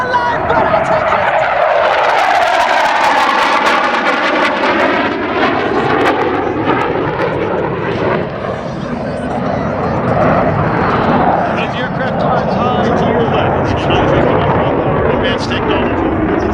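A German Air Force Tornado jet roars past during an aerobatic display, a loud, sustained engine blast whose pitch sweeps downward as it passes overhead and then recedes.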